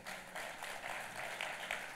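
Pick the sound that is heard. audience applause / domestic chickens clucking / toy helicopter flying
audience applause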